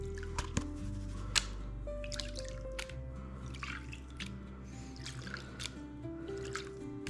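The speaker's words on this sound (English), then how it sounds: "we'll pan the surface off a little bit" Water sloshing and dripping in a gold pan as paydirt is panned, with soft irregular splashes and trickles close to the microphone, fairly quiet and without talk.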